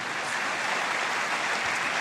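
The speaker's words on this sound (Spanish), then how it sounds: "Alguien tiene que aplaudir por ese Dios." A church congregation applauds steadily and loudly for about two seconds, a dense, continuous wash of clapping with no pauses and no voices standing out.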